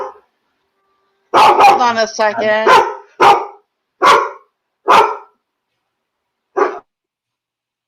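A pet dog barks indoors during a live online panel. After a person speaks briefly, four or five sharp, loud barks follow close by, evenly spaced with short gaps, and the last comes after a longer pause.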